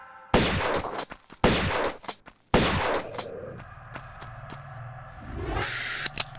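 Three heavy shotgun blasts in the 1996 Tomb Raider game at Palace Midas, played in the Croft Engine. The loud booms come at roughly one-second intervals, each with a decaying tail, and are followed by quieter ambient game sound.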